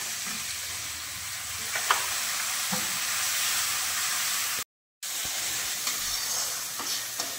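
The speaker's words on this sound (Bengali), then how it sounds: "এবার একটু জল দিয়ে ভালো করে মশলাটাকে কষিয়ে নেব" Spice paste of turmeric, chili powder and ground coriander-cumin fries with a splash of water in a pan, making a steady, close sizzle. A few faint clinks sound once or twice, and the sizzle drops out briefly near the middle.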